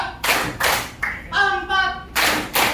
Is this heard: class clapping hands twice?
yes